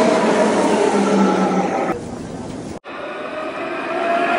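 Train rumbling past outside a hotel room in Lyon near Part-Dieu station, a steady broad roar heard from indoors with a brief dip partway through, no talking over it.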